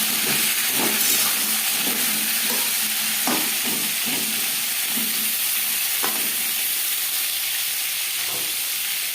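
Pointed gourd (potol) being stirred in a hot pan with turmeric and salt, a steady sizzle and hiss broken by repeated scraping strokes of the spatula, close and alone without talk.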